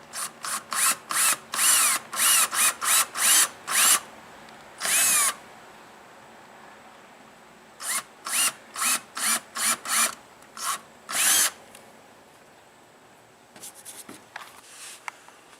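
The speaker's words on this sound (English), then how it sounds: "once I drill my holes where I located my places for my slide tracks" A power drill whirs in short, loud bursts, drilling holes in a kayak for slide tracks, one after another, with brief pauses between each hole and a quieter stretch near the end.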